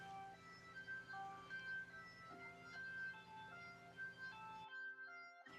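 A recording of a song plays faintly, with a sustained melodic line over a steady backing, before cutting off abruptly near the end.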